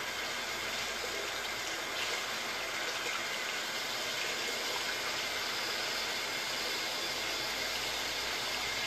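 Steady broadband rush of water running from a tap into a sink, continuous and fairly close with no breaks or talk.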